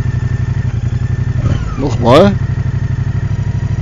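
A Moto Guzzi Stelvio motorcycle engine idles high with a steady, close pulsing throb, then jolts and lurches as it is put into gear. A voice speaks briefly over it.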